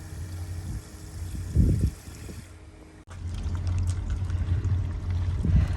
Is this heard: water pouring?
yes